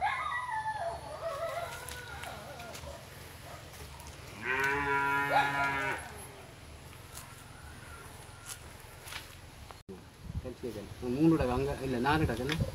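A cow moos once in a long, loud, harmonic call near the middle of the clip, with other farm sounds and a voice speaking in the background at a rural cow-dung biogas setup.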